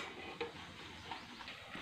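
Soft sizzle of tempering spices hitting hot oil for a Chettinad cabbage side dish, a low steady crackle with a couple of faint pops, close and quiet.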